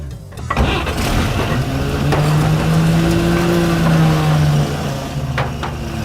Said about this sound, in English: I can't believe it fired up and it's idling.